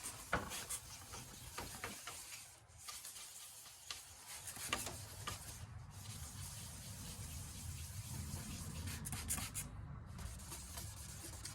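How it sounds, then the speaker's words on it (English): A Nissan Xterra or Frontier headlight is wet sanded with water, giving a faint, continuous gritty rubbing in circular strokes at close range. "you can feel where the headlights have been deteriorating by the sound of the grit and by how it feels on your hands"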